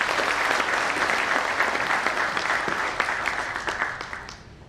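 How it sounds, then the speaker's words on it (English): Audience applause for a society's board during a CFA Institute speech, a dense, steady clatter of many hands that holds, then thins out and fades toward the end. "who deserve a huge round of applause for it"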